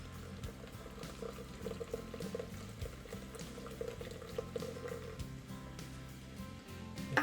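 Coke Zero poured from cans into a whole turkey being prepared for smoking, a steady splashing liquid pour with gurgling and dripping, close and continuous throughout.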